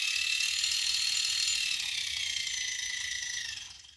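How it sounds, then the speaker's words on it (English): An RC rock crawler's front axle gives off a fast, high mechanical ratcheting clatter, close and steady, fading out toward the end with no one talking. "More clatter from the front axle than the rear."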